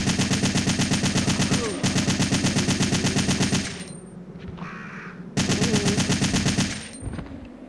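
Rapid automatic gunfire from the PS1 game Resident Evil 3 rattles in dense, sustained bursts, breaking off briefly and then resuming at full volume, loud and continuous.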